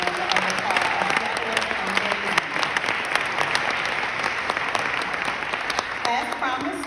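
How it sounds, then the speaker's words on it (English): Sustained applause from a conference audience at a leadership gathering, steady dense clapping filling the room for several seconds, with a few louder claps and some crowd noise mixed in. "Please give them another round of applause."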